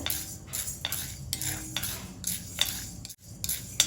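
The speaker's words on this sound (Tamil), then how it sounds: "இப்போ இதை நம்ம கொஞ்சம் ட்ரை ரோஸ்ட் பண்ணி எடுத்துக்கலாங்க." White urad dal dry roasts in a pan while a metal spoon stirs it, making quick rhythmic scraping and rattling strokes close up, with no talking.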